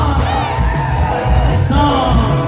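A crowd at a village dance in Ahuelican, Guerrero shouts and whoops in a loud, dense burst of overlapping cries and yells, close and continuous for a couple of seconds.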